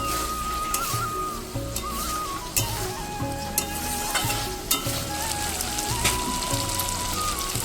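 Chicken frying in oil in a pan sizzles and crackles steadily, with stirring scrapes and occasional sharp clanks of the utensil against the pan, loud and near, without voices.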